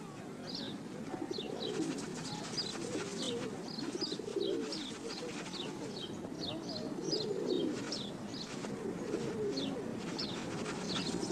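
Sparrows dust bathing give quick repeated chirps over a steady background of low cooing pigeons, the small calls scattered and fairly close, under a quiet narrating voice.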